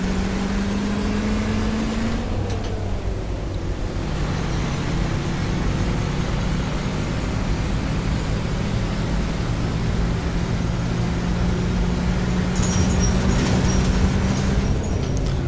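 Rear-mounted engine of a LAZ 695NG bus in OMSI 2, a steady low droning hum with a shifting tone as it pulls along a winding road, continuous and fairly loud with no voices.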